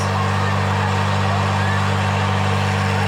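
Motor engine in the Amazon of French Guiana, its accelerator worked from a distance by rope, running loud and steady with a deep continuous drone and no pauses.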